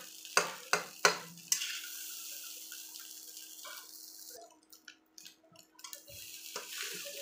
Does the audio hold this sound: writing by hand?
no